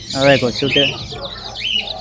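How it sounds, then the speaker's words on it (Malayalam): Colourful fancy chickens kept with pigeons at an amusement park give a short burst of clucking and squawking close by, mixed with a brief spoken word. "ഇഷ്ടംപോലെ കളർ കോഴികളുണ്ട്"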